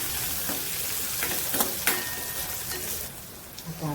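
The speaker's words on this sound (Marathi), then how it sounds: "जिरं टाकते, कांदा, त्याला लाल होईपर्यंत परतायचं।" Cumin and chopped onion, added after mustard seeds, fry in a pan until browning, giving a steady close hiss of sizzling oil with a few light clicks and stirring scrapes.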